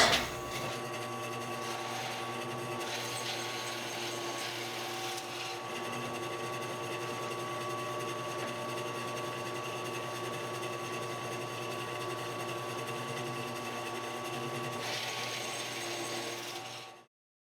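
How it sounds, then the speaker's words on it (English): A power drill drills holes in wood steadily for most of the stretch, a continuous whirring motor drone with a mechanical rattle, close by and with no talking. "I'm gonna go ahead and drill a couple holes"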